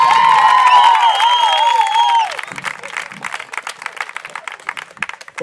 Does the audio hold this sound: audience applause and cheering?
yes